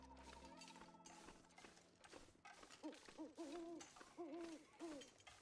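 An owl hoots repeatedly at night in The Long Dark, a series of rhythmic, moderately close calls over a quiet wilderness backdrop, with a faint mechanical tone early on.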